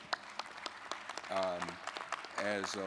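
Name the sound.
audience applause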